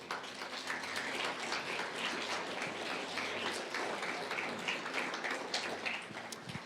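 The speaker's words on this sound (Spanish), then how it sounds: "Dale un fuerte aplauso a Dios." A church congregation claps together in a steady, fairly distant patter of applause that holds evenly for several seconds, with no voices over it.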